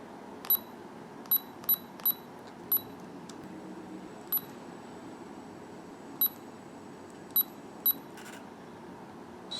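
Short electronic beeps from a Fujifilm FinePix F20 compact digital camera, about ten sharp high chirps spaced irregularly over a quiet background hum, close and fairly loud.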